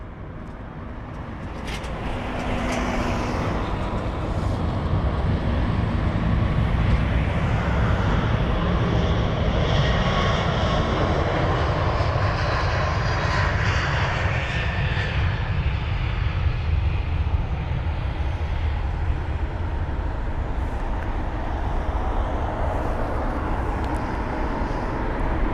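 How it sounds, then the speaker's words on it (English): A brand-new JetBlue Airbus A321neo thunders off the runway at Heathrow, its loud jet roar rising quickly and then holding as a steady, powerful rumble with a high engine whine sweeping across it. "Off goes the Airbus A321neo."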